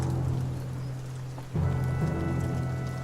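Heavy rain pours over muddy bogland in The Banner Saga 2, a dense, continuous wash of rainfall over a low droning undertone, with a brief dip and swell partway through.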